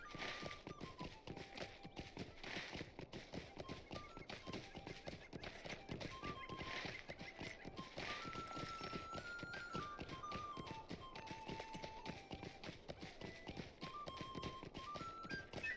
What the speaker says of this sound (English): As I just gallop my horse through people's front yards